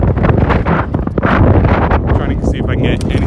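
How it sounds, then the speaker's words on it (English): Strong wind buffets the microphone in loud, rumbling gusts, with brief voices mixed into the roar. "Windy as hell right here too."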